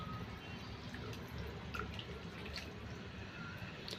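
Raw mutton being washed under running water in a home kitchen, with a steady close splashing and dripping flow that continues evenly throughout, with no talk.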